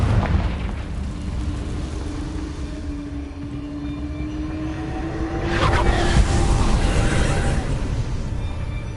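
Deep booming blasts of the Confringo explosion spell in Hogwarts Legacy, with a low rumbling burst, a whooshing sweep, then a louder second eruption near the end.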